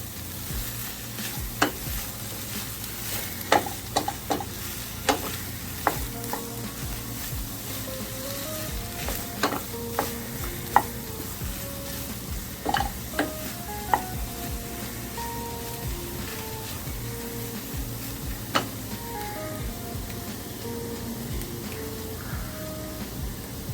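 Fried saltfish and ackee being stirred together in a pan: a long, steady frying hiss with scattered scrapes and taps of a utensil against the pan, close and even, with no talking.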